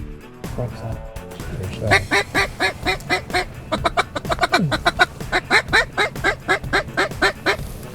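Ducks on a coastal hunt call over and over in a rapid, rhythmic run of loud, close quacks that grows busier toward the end, with a voice briefly heard early on.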